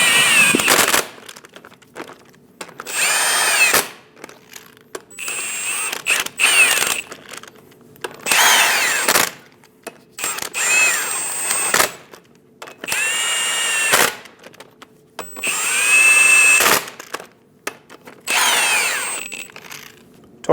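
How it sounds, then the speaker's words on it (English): Lug nuts on a 2001-2006 Chevrolet Silverado 2500 HD front wheel being run down with a power impact tool, a series of loud, close whirring bursts of one to two seconds each, separated by short pauses. "Snug down all the lug nuts."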